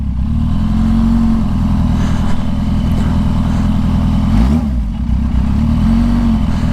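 A twin-turbo Audi R8 pulls gently out of the hole at a half-mile race, its engine droning loudly and steadily close by, with a brief dip and rise in pitch midway.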